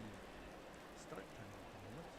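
Continuous rain hiss in a Monza wet race in a sim racing game, a broad steady wash with low engine drones rising and falling beneath, and a voice briefly over it.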